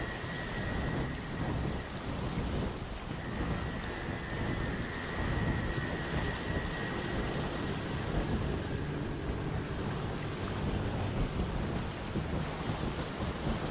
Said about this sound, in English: The crossing is a dangerous, intimidating gauntlet, but it's the only way to break through the ever-raging storm that surrounds the islands